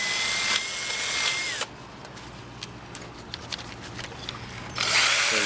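A power tool whirs loudly, cleaning rust off the front brake caliper bracket of a 2012 Fiat 500, running in two bursts with a quieter stretch of light scraping between them.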